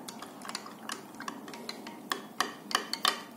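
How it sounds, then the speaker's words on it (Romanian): A spoon stirs turmeric into a drink in a cup, giving quiet, irregular clinks and scrapes that grow a little louder and quicker toward the end, close by and with no talk. "Din curcuma. Amestec bine."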